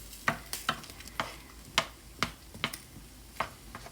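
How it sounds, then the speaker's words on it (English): Cranberries simmering down into sauce in a pot, stirred with a spoon: about eight crisp scraping strokes at a steady rhythm over a soft bubbling bed, close and fairly quiet, with no talking. "Give it a stir"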